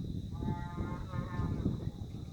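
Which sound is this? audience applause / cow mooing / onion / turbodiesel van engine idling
cow mooing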